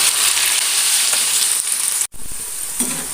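Potato pieces, a second batch added, frying in oil: a continuous bright sizzle that cuts out for an instant, then resumes, without voices.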